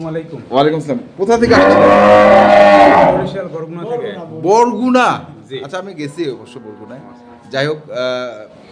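Improved-breed dairy cows on a Bangladeshi dairy farm moo loudly and repeatedly, one long bellow dominating the middle, with other cows lowing nearby and people talking in between.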